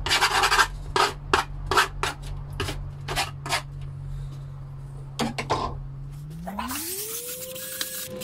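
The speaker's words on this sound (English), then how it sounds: "I want to put a few scratches in it though, so I'll be a bit more aggressive and use this old chisel just to" Old chisel scraping and roughing up the surface of a new wooden cigar box, a series of short rasping strokes in quick rhythm, close and fairly loud, then fading into a rising machine-like whine near the end.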